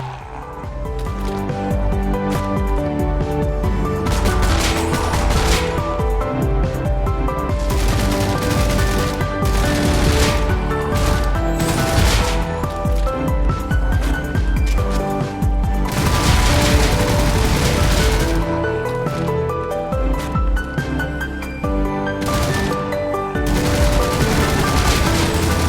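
Rapid gunfire from a zombie video game shooter, dense and continuous for the whole stretch, with bursts of shots and squishy impact effects layered over a steady game soundtrack.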